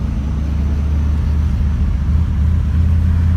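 A car engine idles steadily with a new, quiet aftermarket exhaust fitted after an ECU swap, producing a low, even rumble close by with no talk.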